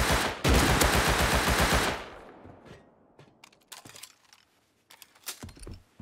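In a video game, an AK rifle fires a dense, loud burst of rapid automatic gunfire that stops abruptly, followed by scattered sharper single shots and clicks.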